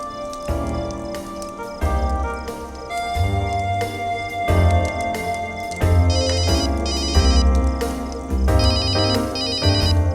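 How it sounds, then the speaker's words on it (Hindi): A mobile phone ringtone plays a loud, continuous melodic tune for about ten seconds during a quiet night outdoors under the moon and stars. No one speaks over it. "यार रोहित, कम से कम ऐसी सिचुएशन पे तो फोन साइलेंट पे रखा कर"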